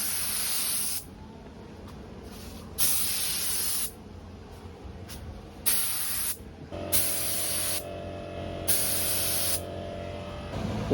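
A spray gun with a 1.4 mm nozzle at 35 psi sprays paint onto a plastic Golf GTI Mk5 bumper. The hiss comes in loud, near bursts that start and stop repeatedly, and a low hum settles in underneath partway through.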